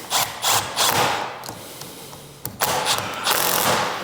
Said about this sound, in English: Put the connector on, get it tightened up.